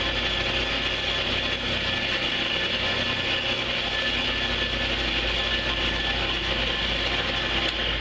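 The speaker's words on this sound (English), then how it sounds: "I will use the sheet of micro mesh with the lathe on" A wood lathe runs steadily while a kit pen is sanded with micro mesh, producing a loud continuous whirring hum with a fine scratchy hiss of abrasive over the spinning workpiece, alone without talk.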